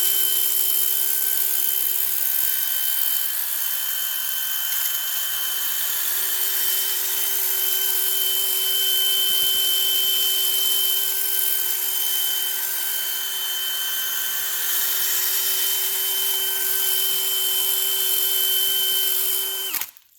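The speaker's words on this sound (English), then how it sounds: "Stick the old drill in here and give her the beans." A power drill whines steadily at high speed for about twenty seconds during work on a 12-valve Cummins engine, a constant loud motor tone that cuts off abruptly at the end.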